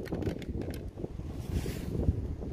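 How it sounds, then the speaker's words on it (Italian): Strong wind gusts buffet an E90 drone's microphone while it flies above 500 metres. The roar rumbles and surges throughout, with no talking. "Questa è bellissima perché testimonia il vento importante che abbiamo."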